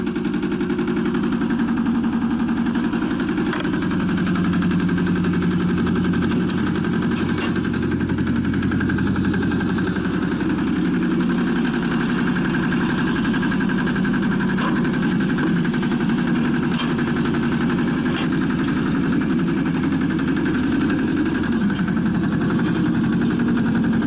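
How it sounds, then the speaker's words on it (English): Small two-stroke diesel engine on a roller tamper compactor for soil, running steadily at a constant idle-like drone with a faint mechanical rattle, close up and continuous with no talking. "It is diesel. This is a diesel machine."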